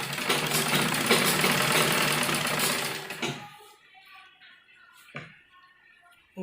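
A sewing machine stitching the fitting seam of a frock, a rapid close mechanical whir running for about three seconds before stopping, followed by quiet handling clicks.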